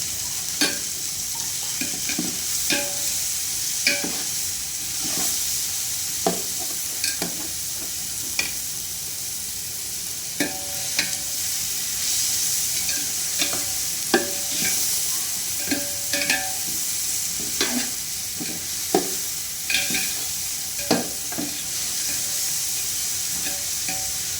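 Continuous sizzle of tomato, mint and coriander sautéing in a pan, with regular scraping and clinking of a spatula stirring throughout, close up.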